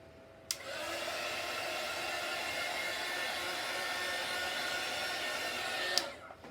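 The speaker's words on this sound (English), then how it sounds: "I'll hit it again with the heat gun" A heat gun blows on a painted table top as a steady, loud, airy roar. It switches on with a click, runs evenly for about five and a half seconds, then cuts off, with no talking.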